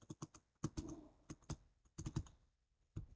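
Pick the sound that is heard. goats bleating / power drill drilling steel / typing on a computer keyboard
typing on a computer keyboard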